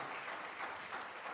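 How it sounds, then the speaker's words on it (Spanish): Church congregation applauding during a sermon, a short burst of steady, dense clapping from a crowd that fills the room at moderate level. "Yo creo que el Señor se merece un fuerte aplauso."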